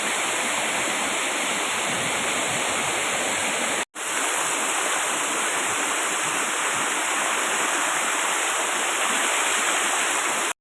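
Stream water rushes steadily past a bathing spot, a loud, close, continuous wash of flowing water broken only by a brief cut partway through, with no talk.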